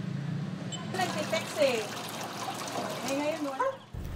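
Residents fill containers with water from a tap ahead of a water service interruption in Barangay Poblacion, Muntinlupa City; steady pouring and trickling runs under a reporter's narration with varying fill tones.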